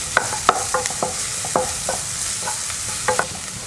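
Finely chopped large onion hits hot oil for a stuffed chapati keema filling, sizzling steadily while a spoon scrapes and stirs the pan in several sharp clacks, close and loud, with no talk.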